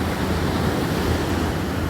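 Sea waves wash onto a Thai beach in a loud, steady surge with a broad roaring hiss and some wind buffeting the microphone, continuous with no talk.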